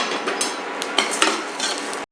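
Garlic, coriander seeds and sesame seeds being stirred in a pan, giving a steady close scraping and clinking of a utensil against metal with a few sharper taps, and only a faint sizzle underneath.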